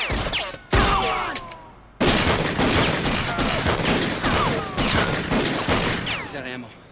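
Gunfire rips through a shootout in the TV series Renegade: dense bursts of rapid shots with short pauses between volleys, loud and close.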